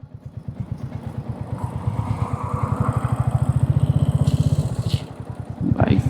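A motorcycle idles close by with a steady, rapid pulsing throb that rises slightly in loudness, parked at a dried fish market in Saidpur, Bangladesh. A brief higher whine or clatter comes in near the end.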